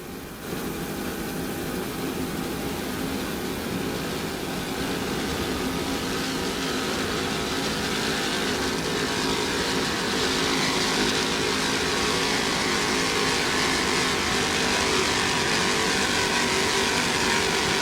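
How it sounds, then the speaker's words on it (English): Offshore racing powerboat with a pair of 800 horsepower racing engines, a loud, sustained engine roar that builds slightly and holds for the whole stretch, with no talk. "A pair of two 800 horsepower racing engines."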